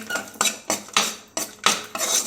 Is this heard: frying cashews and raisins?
yes